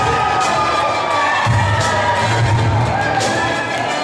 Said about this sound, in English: Showing the crowd approving